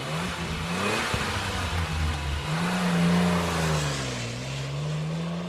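A car engine revs up and down in a continuous, loud, close drone that rises and falls in pitch over several seconds, with no voices.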